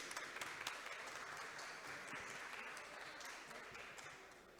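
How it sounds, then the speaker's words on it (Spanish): A conference audience gives a warm round of applause to welcome a speaker, heard as faint, distant, continuous clapping. "recibamos con un fuerte aplauso el día de hoy al doctor Mateo Alfredo Castillo Ceja"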